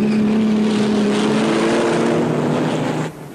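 Loud, close engine drone of 1957 racing cars, a BRM among them, at the British Grand Prix, holding a steady tone for about three seconds before dropping away abruptly as the car passes.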